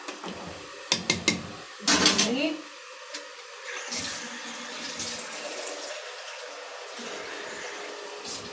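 Water is poured into a clay tagine of fava beans and peeled potatoes in a home kitchen, a short splashing pour amid clinks of pots and utensils, followed by quiet kitchen handling.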